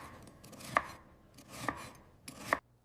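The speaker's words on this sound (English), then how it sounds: "I use a sharp knife to cut the vegetables on the chopping board." A sharp knife chops vegetables on a chopping board in a kitchen, three crisp, evenly spaced thuds against faint background noise with no talking.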